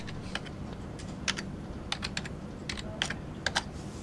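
Password keystrokes tapped on a computer keyboard at an SAP login: a dozen or so light, crisp clicks in an irregular rhythm over a steady low room hum, close and fairly quiet.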